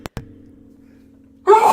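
After a couple of faint clicks and near silence, a single abrupt sneeze erupts close by.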